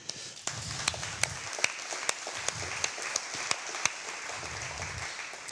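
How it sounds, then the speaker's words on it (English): A conference audience at a DevOps gathering gives a round of applause, soft, distant clapping with a few sharper individual claps standing out over several seconds. "I would find it really awesome if we could get one round of applause for everybody that cannot be here today"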